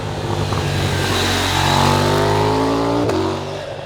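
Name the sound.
KTM 990 RC R motorcycle engine burble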